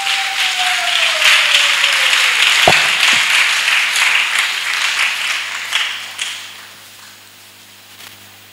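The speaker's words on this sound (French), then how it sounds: "Acclamation à Jésus-Christ" A church congregation claps in acclamation to Jesus Christ during a spiritual gathering, loud sustained applause with a few sharp accents and a sliding tone early on, fading out after about six seconds to a quiet room.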